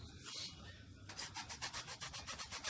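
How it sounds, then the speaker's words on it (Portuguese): A hand rasp grinds on a sewer pipe in a series of quick, rhythmic back-and-forth scraping strokes, close and fairly quiet, following a brief stretch of rougher rubbing. "Uma grossa, você vai estar utilizando a grossa para estar desbastando isso aqui"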